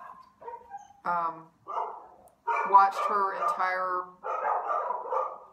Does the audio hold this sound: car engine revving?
no